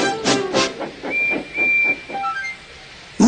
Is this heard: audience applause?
no